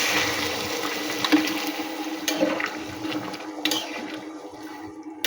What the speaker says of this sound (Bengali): ওইবারে আমি এর মধ্যে জল দেবো, এর পরিমাণ মতন আমি জল দেবো।